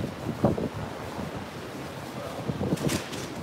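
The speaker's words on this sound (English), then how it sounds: "so windy." Gusty wind buffets the microphone with low rumbling bursts, broad and blustery, with no one speaking.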